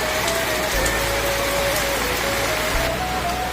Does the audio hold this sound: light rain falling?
yes